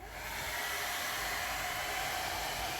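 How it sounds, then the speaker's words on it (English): A blow dryer runs steadily on a wet watercolor painting, a loud constant whooshing hiss from start to finish with no voices. "you can see that it pushes the paint around whenever we use the blow dryer"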